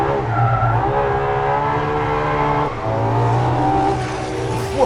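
A Ferrari LaFerrari, a 950 hp mid-engine car, skids at the limit, its loud engine drone holding steady with a brief dip near the middle, close and continuous with no talk.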